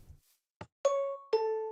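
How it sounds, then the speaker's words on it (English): Minecraft note blocks arranged as a train door chime play two clear, sustained bell-like tones one after the other, each ringing on after its start, with a couple of soft plops beforehand. "That's our door chime sound effect."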